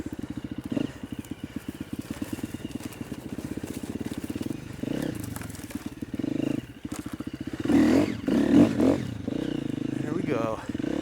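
A KTM 250 EXC-F dirt bike rolls downhill through snow, its engine burbling in a steady, pulsing idle-like rhythm close to the mic, with rougher bursts and revs toward the end.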